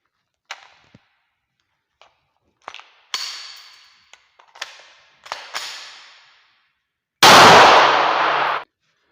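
A pistol slide is racked back and released by hand while clearing a malfunction, giving several sharp close metallic clacks and clicks spaced over a few seconds, then a loud burst of broad noise that cuts off abruptly.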